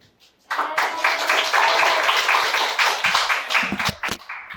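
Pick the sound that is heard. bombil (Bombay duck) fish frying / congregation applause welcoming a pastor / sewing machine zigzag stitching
congregation applause welcoming a pastor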